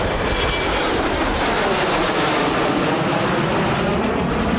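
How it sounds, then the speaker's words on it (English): A Boeing 727 or MD-80 jet airliner takes off, its engines a loud, continuous broadband roar filling the whole stretch without pause. "727 taking off. MD-80."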